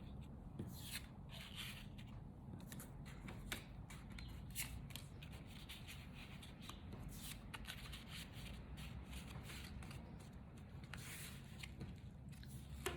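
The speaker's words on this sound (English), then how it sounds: "I'm going to go ahead and run over it again with my burnishing tool." A burnishing tool is rubbed over glued paper in a series of soft, quick scraping strokes, quiet and close, repeating steadily with no voices.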